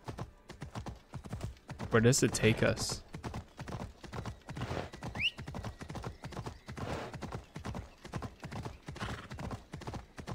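Horse hooves clip-clopping at a steady gallop in Assassin's Creed Odyssey, close and continuous throughout, with a brief neigh early on and a player talking over it.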